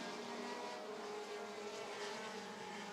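Short-track race cars of the American Short Trackers class roar together at Rockford Speedway, a dense, steady wall of engine noise from a field of cars at a heat race start, with no voices.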